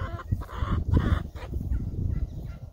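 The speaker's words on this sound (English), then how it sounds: "My chickens are all over the yard." Hens cluck in short, repeated bursts close by in a yard, with a steady outdoor background rumble between the calls.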